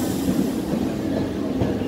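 A Howrah-Bandel local train pulls into Hooghly railway station, giving a steady, loud rumble of rolling carriages that holds constant throughout with no voices.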